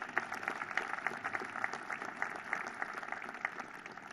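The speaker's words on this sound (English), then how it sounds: "Let's give him another big round of applause," Faint, distant applause from a crowd at the Kentucky governor's inauguration ceremony for performer Walker Montgomery, a thin, steady patter of clapping heard from afar with little else.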